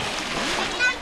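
A child jumps into water after a counted-down leap, giving a brief close splash with other children's voices calling out around it.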